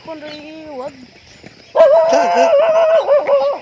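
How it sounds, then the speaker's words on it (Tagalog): Several dogs howl and bark together in long wavering cries, starting softly then swelling loud and close in an overlapping chorus. "Ang daming aso dito."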